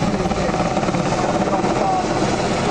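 A helicopter flies over a beach assault display at the Bournemouth Air Show, giving a loud, steady rotor and engine roar that fills the whole stretch, with a commentator talking over it.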